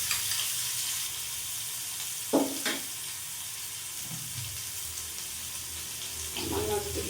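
Ginger, garlic and chili paste fries in a pan over low flame with cumin, a soft steady sizzle with a few clinks and stirring scrapes in between.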